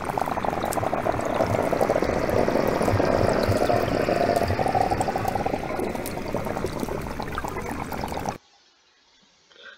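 Gas bubbles rising from a seep on the seafloor, recorded underwater: a dense, steady crackle of popping and gurgling that fills the recording, then cuts off abruptly to near silence.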